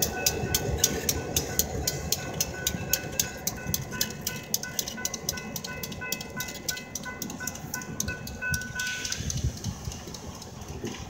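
A train passes near the Abbeville railroad depot, a steady rumble with rhythmic wheel clicks and squeals running throughout, close and fairly loud with no talk.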